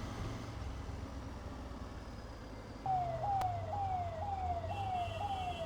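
A police van's wailing siren passes on a city street, its repeating rising-falling tone starting partway through and riding over steady road traffic noise.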